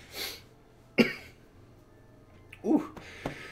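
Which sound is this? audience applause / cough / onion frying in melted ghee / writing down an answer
cough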